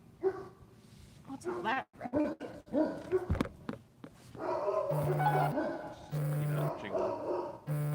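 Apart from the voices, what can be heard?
dogs barking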